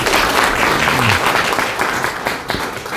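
An audience at a history lecture welcomes the first speaker with big applause, loud and close dense clapping from many hands sustained across three seconds with a faint murmur beneath.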